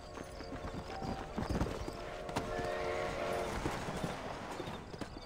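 A horse gallops in the Western video game Red Dead Redemption, its hooves pounding in a fast, continuous clip-clop over a dense wash of rumbling game sound.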